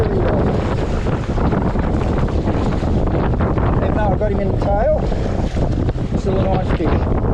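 Strong wind buffets the microphone in a steady roar while salmon fishing from a boat on open water on a very windy day, with talk partly buried under the gusts.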